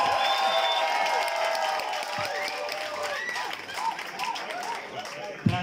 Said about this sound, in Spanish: El aplauso para Miss Pasiva